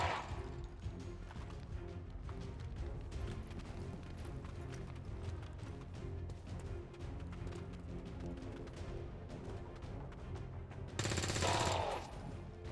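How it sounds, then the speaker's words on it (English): Enemy gunfire in XCOM 2, a steady stream of quick rapid shots under battle noise, ending in a louder, brighter burst of fire. "Oh, they're shooting too."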